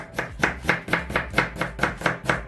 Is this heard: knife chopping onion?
yes